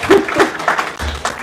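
An audience at an athletics hall of fame induction ceremony gives a short, close burst of applause with a few chuckles mixed in.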